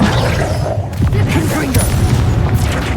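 A Bombardo spell explodes during Hogwarts Legacy gameplay. Booming blasts and crackling debris come over a dense, loud background of game effects, with a voice heard in the mix.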